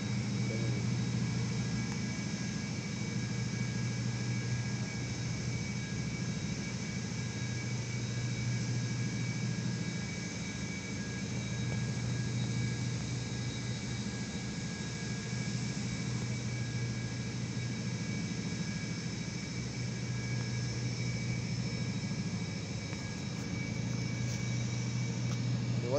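The engines of an offshore supply vessel run its fire-fighting water monitors at high pressure, making a steady, loud, droning hum with constant tonal whine and broad rushing noise that continues unchanged for almost half a minute.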